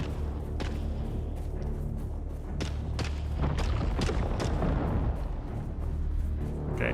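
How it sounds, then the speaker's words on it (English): Gunshots from another player in the desert survival game Dune Awakening, a series of sharp cracks and booms at irregular intervals, moderately distant, over a steady low rumble of ambient wind. "that's Furlong, because he's shooting at me"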